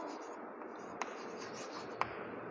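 Chalk or marker writing on a classroom board during a maths lesson on polynomials, a steady faint scratchy rubbing with two sharper taps, fairly quiet and close, with no talk over it.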